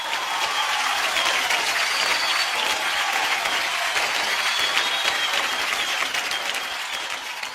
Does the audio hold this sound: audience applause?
yes